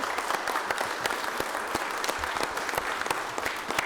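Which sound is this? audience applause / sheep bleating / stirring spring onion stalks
audience applause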